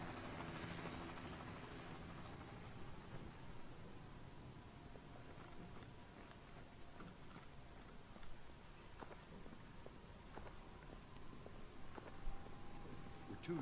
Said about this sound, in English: Fisher, inbound helicopter.